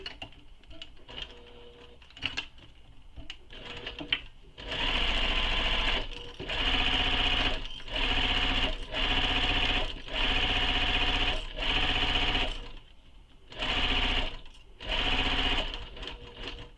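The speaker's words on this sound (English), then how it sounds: "Now I'm going to stitch down the sides and across the bottom." A sewing machine stitches down the sides and across the bottom of a quiver sling, running in several steady bursts of rapid mechanical whirring separated by short pauses, with lighter clicks and handling sounds before the first long run.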